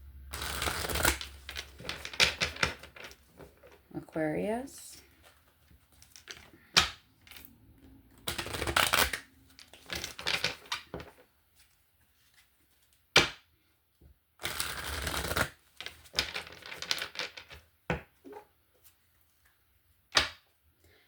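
A deck of cards is shuffled for a card reading, giving bursts of riffling and flicking with quiet gaps between them. A voice speaks briefly once.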